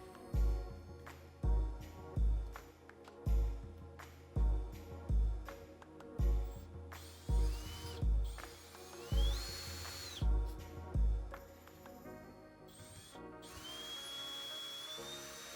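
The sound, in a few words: impact driver removing doorknob latch screws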